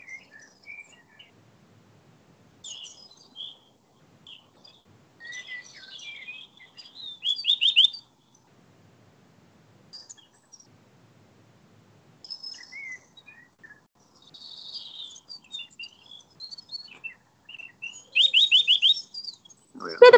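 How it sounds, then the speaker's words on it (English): A wild bird from the UK singing in short, high bursts of chirps and trills separated by long pauses, fairly close and clear with no talking over it. "on to our bird song of the day from UK"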